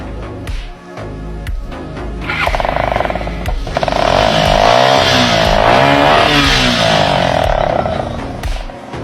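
A motorcycle with a modified silencer starts up and revs, its engine note rising and swelling loud and near for several seconds before settling, preceded by a few clicks and knocks.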